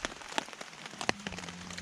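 Rain patters on a Snugpak Stratosphere bivvy bag in the woods on a wet, windy night, with scattered close drops ticking irregularly against the fabric.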